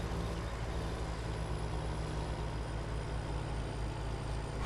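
A log skidder in Farming Simulator 17 drags a felled tree during a clear-cut, its heavy diesel engine droning loud and steady throughout with no voices over it.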